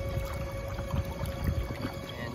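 Torqeedo Evolve electric motor running on a Hobie Compass kayak, a steady faint whine over soft water sloshing and gentle splashes, with no voices.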